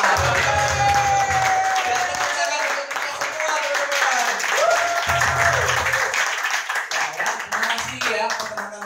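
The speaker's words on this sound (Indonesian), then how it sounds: "Penghubungnya aplaus untuk Ibu Citra." An audience applauds for Ibu Citra at an indoor talk or seminar. Dense, sustained clapping from a crowd continues for several seconds, with a voice heard faintly through it.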